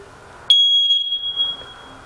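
A cheap smoke detector's test button triggers one loud, piercing high-pitched alarm tone that starts abruptly and holds for about a second before fading, with no talking over it.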